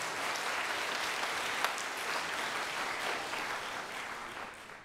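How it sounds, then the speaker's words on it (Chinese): A congregation applauds during a Taiwanese-language Sunday worship service at a Presbyterian church, sustained, even clapping from many hands filling the room, fading slightly toward the end. "让我们鼓掌"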